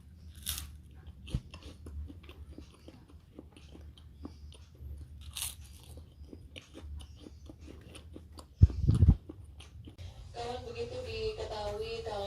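Crunchy fried food, cooked in a Tefal Natura non-stick pan, gives one loud crisp bite near the end followed by brief chewing, with a faint voice and low background noise.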